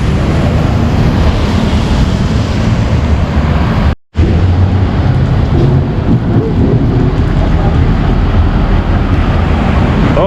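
Heavy outdoor rain pours steadily and loudly in a dense roar with a low rumble beneath, cutting out for a brief instant near the middle before resuming unchanged, with no voices.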